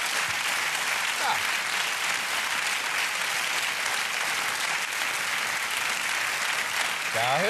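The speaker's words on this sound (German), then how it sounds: "das ist auch der erleichterte Applaus" Steady, dense studio audience applause at a late-night German talk show, continuous and even throughout with a faint voice surfacing briefly near the end.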